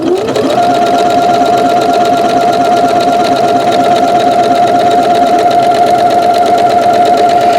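A Janome sewing machine stitches a buttonhole with its buttonhole maker attachment, running loud and steady throughout with a fast, even mechanical chatter and a constant motor whine.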